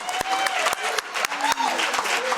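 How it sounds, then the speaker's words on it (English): Audience at a state and local organizing awards presentation clapping in a steady patter, fairly close, with sharp individual claps standing out and a voice or tones faintly underneath. "Can we get another round of applause for everyone?"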